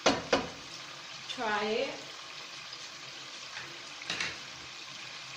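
Chicken stir-frying in a pan for pancit made with spaghetti noodles, a soft steady sizzle with a few sharp scraping clatters of a utensil against the pan, and a brief voice speaking over it.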